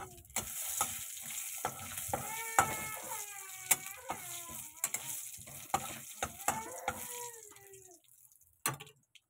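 Bay leaf and dried red chillies frying in hot oil with cumin for a Bengali muri ghonto, giving a steady close sizzle with scattered crackles and pops and light stirring ticks, fading near the end.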